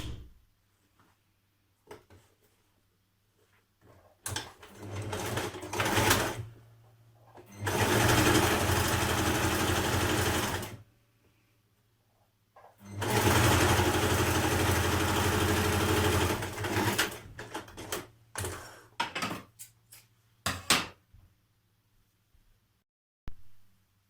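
A sewing machine joins the side seam of a dress in two loud, sustained bursts of fast mechanical whirring separated by pauses, with a low steady hum and light handling clatter between the runs.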